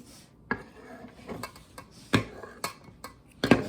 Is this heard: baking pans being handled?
yes